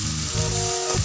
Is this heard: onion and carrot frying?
yes